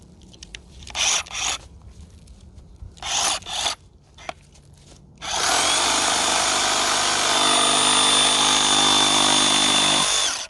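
A DeWalt 20V XR brushless reciprocating saw (DCS368) runs steadily through a cut for about five seconds, loud and close, after a few short scraping handling noises at the start.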